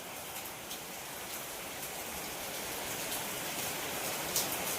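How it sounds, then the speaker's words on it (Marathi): Heavy rain falls steadily in a dense, even hiss of countless drops that holds through the whole stretch without pause. "लय पाऊस चाललाय कळालं नाही कधी आला पाऊस"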